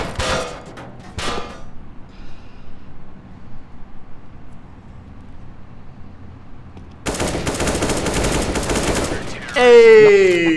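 Counter-Strike gunfire: a couple of sharp shots at the start, then a loud sustained automatic burst rattling for a few seconds near the end, with a brief voice over the game audio.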